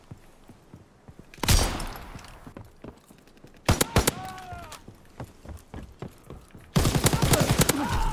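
Rifle gunfire rings out in Call of Duty: World War 2. Loud, sharp shots come in scattered bursts close by, with a rapid volley near the end and faint footsteps between the shots.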